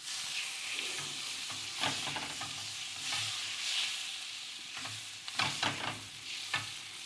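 Butter sizzling as fried rice is stir-fried in a pan over high heat, a steady close frying hiss with intermittent scraping stirs, no talking.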